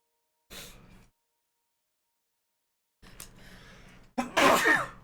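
A short breathy burst comes first. After a silent gap there is a sharp inhale, then a loud, close sneeze.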